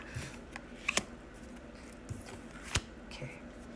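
A stiff oracle card deck is shuffled with scattered snaps and riffles, close and fairly soft, under quiet room noise.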